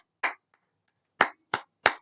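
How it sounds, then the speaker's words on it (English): Four sharp, isolated hand claps close to the microphone: one single clap, a long pause, then three more in quick succession, with silence between them. "I'm going to go ahead and clap it up for y'all"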